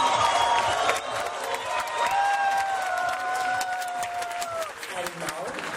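Crowd applause and cheering at a sangeet dancing championship for the bride's side, with whistles and whoops over steady clapping, continuous and fairly loud throughout.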